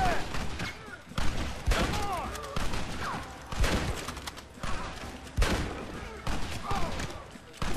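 Gunfire in Red Dead Redemption, a rapid series of sharp rifle and pistol shots in irregular bursts, close and loud, with faint voices in between.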